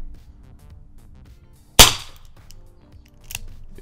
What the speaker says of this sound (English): I'm shooting you with this tiny little gun.